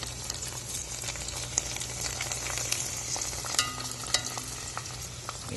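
Prawn chips frying outdoors in plenty of peanut oil, a steady close sizzle and bubbling with occasional sharp crackles and pops, no talking.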